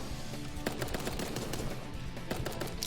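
Rapid SMG bursts and pistol shots crackle through a Super Animal Royale 1v1 tournament match, a dense, continuous run of sharp gunfire with shots overlapping at a steady, loud level.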